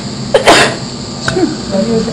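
A person sneezes sharply once, loud and close, followed by a smaller throat sound, indoors during a demonstration of an Oxylator resuscitator under deep sedation.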